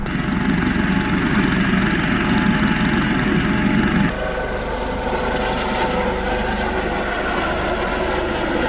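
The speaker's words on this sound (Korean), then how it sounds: "저기 헬기가 있어 가지고 어 기다리는 김에 한번 구경 좀 하고 오겠습니다" A helicopter flies nearby with a steady, loud rotor and engine roar that drops slightly in tone midway, continuous and without speech over it.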